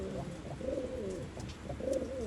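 Pigeons coo at a pigeon sale in Bangalore, several close, soft rolling coos repeating over a low background murmur.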